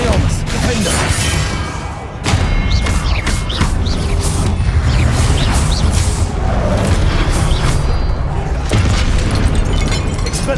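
Hogwarts Legacy Confringo blasting spells explode repeatedly in a dense, loud barrage of booms and crashes, with a brief dip before the blasts resume, under shouted spell incantations.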